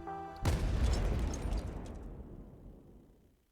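A single heavy blast rips through a cavern in the game Arknights, hitting suddenly and loudly, then rumbling and fading slowly over about three seconds.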